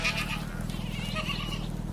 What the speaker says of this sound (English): Really? Goats?